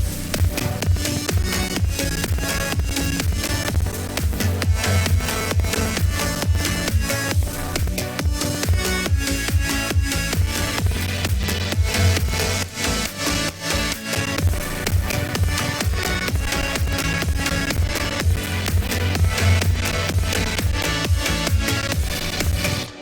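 Loud, driving psytrance electronic dance music with a pounding steady beat and dense layered synths, playing continuously with no voices.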